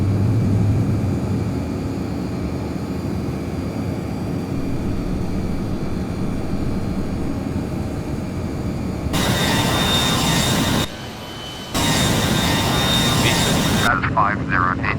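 An Air Canada CRJ regional jet in FSX rolls down the runway and climbs out, a steady broadband engine roar running throughout with a cockpit voice speaking over it, then the sound cutting and shifting in abrupt sections near the end.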